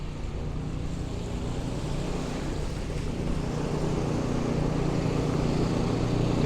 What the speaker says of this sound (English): Yeah, snowblower.